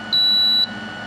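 A reflow oven gives a single sharp electronic beep of about half a second, high-pitched and steady, over quiet background hum.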